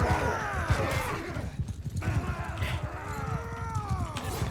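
A wounded horse ridden slowly in the Mount & Blade Bannerlord video game, with steady hoofbeats, whinnies and battle noise layered throughout, fairly loud and continuous without speech.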